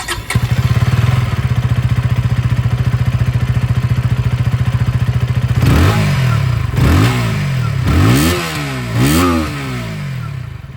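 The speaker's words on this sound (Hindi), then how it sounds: "जो एग्जॉस्ट साउंड है वो भी आप लोग सुन लीजिए" A 2025 KTM Duke 160 with an underbelly exhaust idles steadily and loudly up close, then gets several sharp throttle revs that rise and fall one after another.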